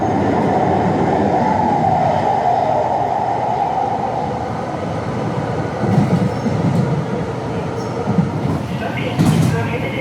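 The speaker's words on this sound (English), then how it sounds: "Westline train to Portland Airport" Ride aboard a Portland light rail train heading toward the airport on the red line, a steady rolling rumble of wheels and carriage throughout with a few louder clanks and squeaks near the end.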